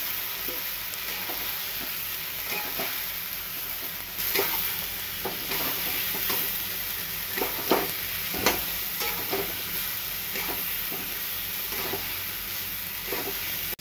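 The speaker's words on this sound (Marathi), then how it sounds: "आता आपण हे मसाले आणि वांगी मस्त फ्राय करायचे." Eggplant and spices frying in a pan as they are stirred: a constant close sizzle with repeated scraping taps of the spoon throughout, and no voices.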